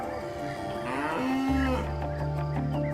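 Cows in an Irish pasture give a loud, close, drawn-out moo, with other lowing calls overlapping around it.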